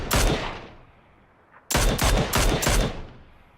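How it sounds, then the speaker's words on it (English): Rifle shots from a Mini14 in PlayerUnknown's Battlegrounds: one loud sharp report with a decaying tail, a pause, then a rapid volley of four close, loud shots in quick succession. "So out with the mini, because it's still quite a long shot."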